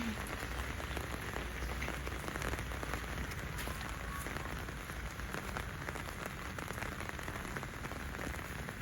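Steady rain pattering on a surface, dense and continuous throughout with no voices, close by and moderately loud.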